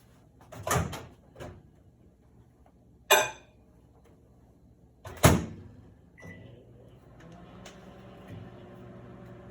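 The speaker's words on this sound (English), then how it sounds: "And then you're going to put it in the microwave for 1 minute." A microwave door opens and shuts with a few sharp clunks and clicks spread out over several seconds, then a low hum follows.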